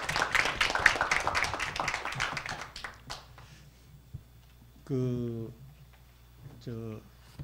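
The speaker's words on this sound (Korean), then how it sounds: "그럼 박수로 이렇게 채택하도록 하겠습니다" A university presidents' summit audience claps to adopt a proposal during a free discussion session: a burst of close, dense clapping for about three seconds, then a voice speaking.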